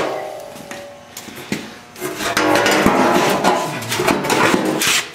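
A welded metal patch on a car's inner fender is ground down, producing harsh, close abrasive rasping that swells into a loud, sustained grind over the second half.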